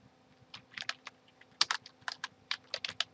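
Keys clatter on a computer keyboard in short bursts of quick, crisp taps, some louder clusters, with near-silence between, close and alone.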